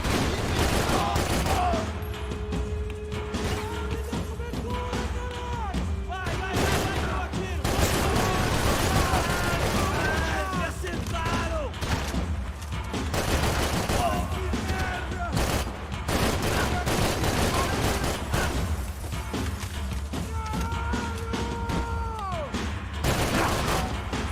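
Rapid gunfire bursts and booming shots from the video game Max Payne 3, continuous and loud throughout, with a voice talking over the action and game sound effects.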